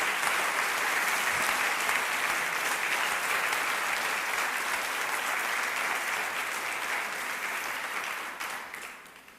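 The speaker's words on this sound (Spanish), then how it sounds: "Dale un fuerte aplauso a la gloria del Señor." A church congregation at a Spanish-language service claps steadily and loudly in dense, even applause that holds for several seconds, then fades out toward the end.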